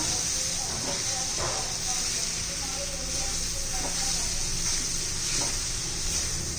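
Strips of stale chapati for a spicy breakfast snack are stirred in a hot pan, a continuous sizzle and hiss with light scrapes and taps as they are mixed, a voice talking faintly over it.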